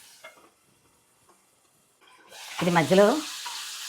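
Onions frying in a pan after a tempering of dried red chillies and asafoetida: a quiet pause, then a sudden bright sizzle and stirring swell up close while a voice speaks briefly over them.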